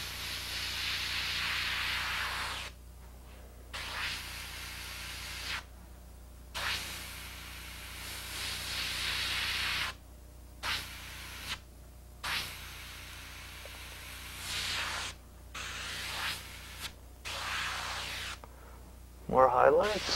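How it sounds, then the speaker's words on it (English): Airbrush spraying white paint for a portrait painting, a steady hiss in repeated bursts of a few seconds each, separated by short pauses, close and fairly loud. "So I'll spray in a little white"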